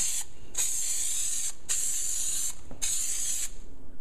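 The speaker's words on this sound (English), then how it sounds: "And then we're gonna spray all of this in here." An aerosol adhesive can sprays in three long hissing bursts into a car trunk during a liner install, separated by short pauses, close and clear against a quiet background.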